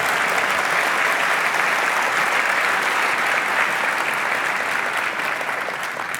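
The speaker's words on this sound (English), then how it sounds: "It's applause, right?" Steady applause from a crowd fills the whole stretch, dense and even, easing only slightly toward the end.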